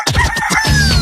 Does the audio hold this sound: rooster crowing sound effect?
yes